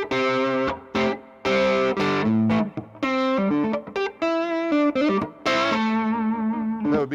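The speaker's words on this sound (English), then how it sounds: "I'm going to put that Klon clone on again because this would be the same tones that I was working with" Electric guitar on the neck pickup driven through a Klon clone overdrive pedal, playing a mildly gritty lead phrase of sustained and bending notes, close and clear with no talking.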